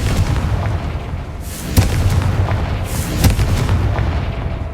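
Confringo fire spell explosions in the video game Hogwarts Legacy, two sharp booming blasts over a dense rumbling backdrop, loud and close.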